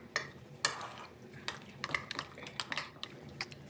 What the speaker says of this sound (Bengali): এটা আমি মিশিয়ে নিচ্ছি ভালো করে